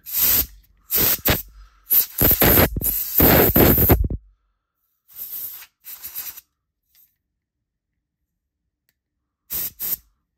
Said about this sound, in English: Then we take some canned air. And we spritz.